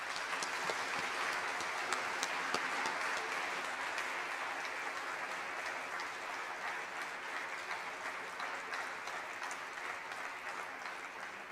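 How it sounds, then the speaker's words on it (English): An auditorium audience at a school awards convocation gives seniors a long, dense round of applause, many hands clapping in a steady, even roar that barely fades over eleven seconds. "let's give these seniors a big round of applause"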